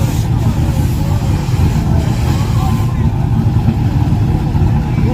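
Race car engine revving at a street grudge race, a loud, rumbling, continuous engine drone with low growl throughout, and people talking over it.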